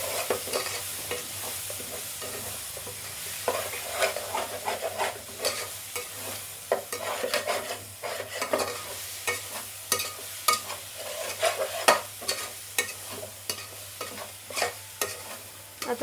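Pav bhaji vegetables fry in a pan with a little amchur powder while a spatula stirs them steadily, making repeated close scraping strokes over a constant low sizzle.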